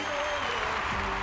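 A school audience applauds a student at an end-of-trimester ceremony, steady dense clapping filling the short stretch, with a sustained tonal hum and faint voices underneath.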